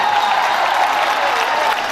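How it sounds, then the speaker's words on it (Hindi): Applause from a mushaira audience at an evening poetry gathering, a dense continuous wash of clapping that stays steady and fairly loud throughout the short stretch. "अगर पहुंच रही है तो हाथ उठाकर जोरदार तालियां बजा दें इस मुशायरे के लिए।"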